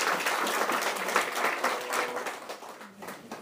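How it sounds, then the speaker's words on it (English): An audience claps after a medical lecture in Kisumu, Kenya, steady mid-level applause that gradually thins out toward the end. "A clap."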